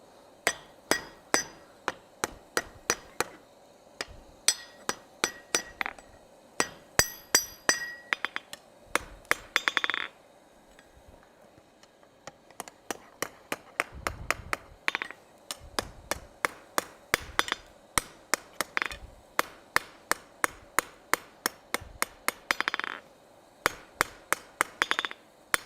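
A blacksmith hammers hot metal on an anvil in quick bursts of sharp ringing strikes, clustered in rhythmic runs separated by short pauses, close and bright.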